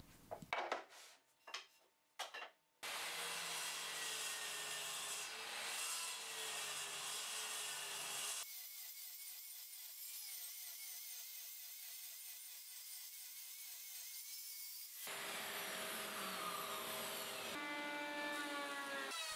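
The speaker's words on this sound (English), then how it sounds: "I make them straight with a planer and cut them to size." Leftover scrap wood pieces cut to size with power tools on a workbench: a few short bursts, then several long, loud, steady stretches of machine cutting and whine, separated by abrupt stops.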